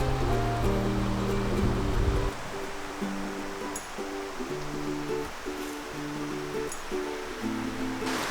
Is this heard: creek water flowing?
yes